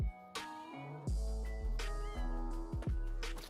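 Several Minecraft cats mew over and over in quick succession, close and clear, their calls overlapping with a steady game soundtrack and no voices.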